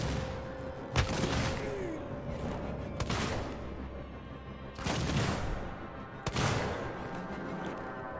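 Gunfire in the video game Alien: Isolation comes as several heavy, booming shots spaced a second or two apart, each cracking sharply and ringing out over a steady background hum.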